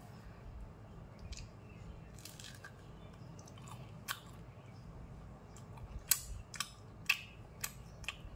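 Close chewing of crunchy fried chicken pakora: faint, soft steady mouth sounds, then several sharp crunching bites toward the end, alone with no talk.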